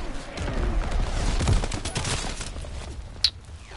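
Incoming enemy artillery in a video game: a dense, rumbling barrage of booms and cracking impacts that swells and then thins, with one sharp high crack near the end and no speech.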